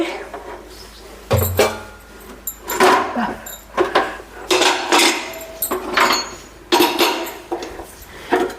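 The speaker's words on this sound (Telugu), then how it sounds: "ఈ బోకులు కూడా కడిగేసి పెట్టేసి ఇవి కూడా కడిగేసి పెట్టేసి" Steel pots, vessels and dishes are being washed in a village kitchen, with intermittent clanks, scrapes and clinks arriving in bursts between splashy pauses, close and moderately loud.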